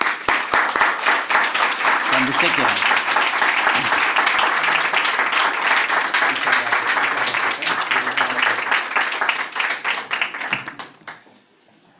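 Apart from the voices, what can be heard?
audience applause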